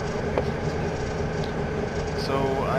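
A train in the RailWorks simulator gives off a steady rail rumble with faint clicks and a short hiss near the end, under constant background noise.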